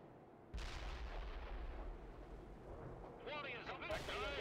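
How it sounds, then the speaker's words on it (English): Artillery fires in the Soviet Assault campaign of the video game World in Conflict, a broad rumbling blast that starts abruptly and lingers, while radio chatter from units is heard over it toward the end. "Firing artillery."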